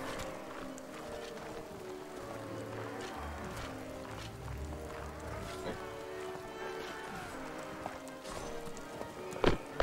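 Hooves of a galloping horse thud in a steady rhythm in the medieval video game Mount and Blade: Warband, moderately loud over a faint background hum, with a few sharper clicks near the end.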